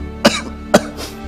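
A person coughs twice, two short, sharp, close coughs about half a second apart with a faint throaty trail, no talking.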